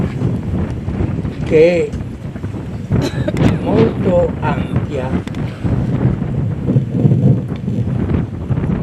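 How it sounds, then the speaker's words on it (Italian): A night breeze blows outdoors near the Nuraghe San Pietro in Sardinia, a steady rushing wind buffeting the microphone throughout, with someone speaking over it. "sta facendo rumore, questa brezza bellissima, dopo tanto caldo,"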